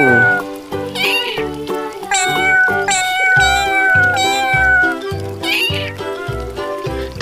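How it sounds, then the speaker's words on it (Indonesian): Toy cat giving repeated electronic meows in a bouncy rhythmic pattern over a short musical tune, loud and close. "Ini kucing."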